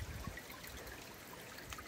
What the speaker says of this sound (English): Water running here in the Mahoosuc Notch.